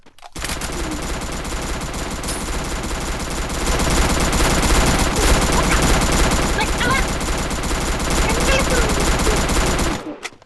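Rapid video-game gunfire crackles almost nonstop, loud and dense, growing heavier halfway through, with faint voices mixed in underneath.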